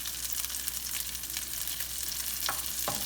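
Brussels sprouts fry in a hot pan, giving a constant close sizzle broken by sharp pops and crackles, with no voices.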